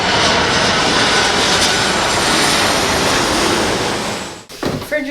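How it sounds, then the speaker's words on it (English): A loud, roaring airplane engine drones close overhead, then cuts off abruptly near the end, followed by a brief voice. "airplane!"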